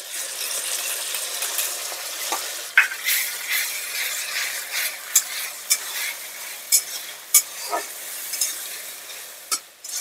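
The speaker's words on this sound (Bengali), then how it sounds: "একটু নেড়ে চেড়ে পেঁয়াজটাকে হালকা ভাজা ভাজা করে নেব।" Onion with ginger-garlic paste fries in a pan, a continuous soft sizzle broken by repeated sharp scrapes and clinks of a spatula stirring against the metal.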